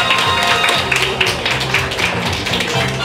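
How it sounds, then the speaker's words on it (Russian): An audience claps at an awards ceremony during a children's festival, with quick uneven clapping and scattered sharp taps carrying on steadily and fairly close. "Аплодисменты, аплодисменты!"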